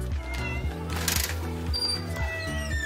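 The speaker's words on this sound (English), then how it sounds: "This cat." A hungry, begging cat meows outdoors near a backyard grill, its calls partly buried under a steady, dense hum of background noise and a brief rushing burst.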